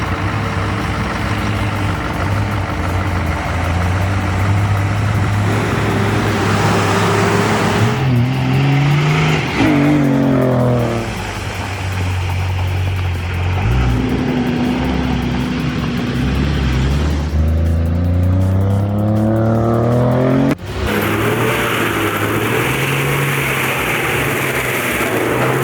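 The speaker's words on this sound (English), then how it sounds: "With this 630 horsepower Ahui RT, 800 mulcher beast on the scene, that unlucky Stump picked the wrong fight." Heavy 630 horsepower forestry mulcher grinding a tree stump, its loud diesel engine roaring and rising and falling in pitch as the load changes, with a sharp drop and recovery near the end and no talking.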